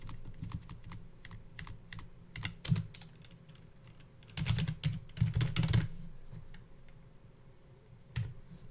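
Password keys tapped on a computer keyboard, with irregular bursts of close, crisp clicks that cluster into a denser flurry midway, then a single late keystroke over a low background hum.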